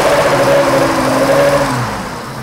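A BMW M30 inline-six with individual throttle bodies, fitted with a full exhaust and standalone ECU in an E28, runs steadily at night with a loud, buzzy drone that eases off slightly toward the end.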